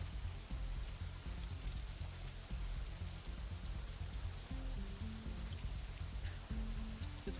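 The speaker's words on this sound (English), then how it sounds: "it's still raining outside" Steady rain in the video game Katawa Shoujo patters on a surface in a continuous, even wash, with a soft low rumble underneath and no voices.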